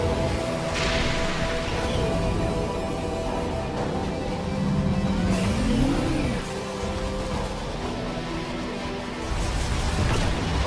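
Samus's motorbike in the Metroid Prime 4 trailer for Nintendo Switch 2 revs with a mid-pitched engine whine that rises and falls over a loud, dense game soundtrack, a brief whoosh near the start.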